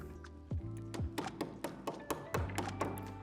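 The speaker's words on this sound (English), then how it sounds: "Insert the cap into the end of the tube." A plastic cap is pushed and tapped into the end of a square tube while assembling a Lifetime 7' x 12' outdoor storage shed. About eight sharp, close taps and thunks come at an irregular pace with no talking.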